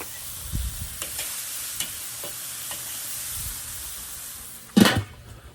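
Burgers sizzle over open flames on a Weber kettle grill, a steady close hiss broken by faint clicks and low thumps, with a sharp louder crackling flare near the end.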